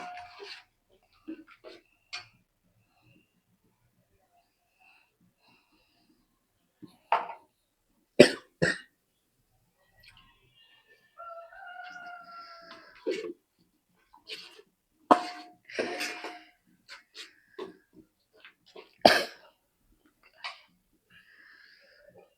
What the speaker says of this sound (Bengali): মশলাটা একটু ঢেকে দিই কাশি হয়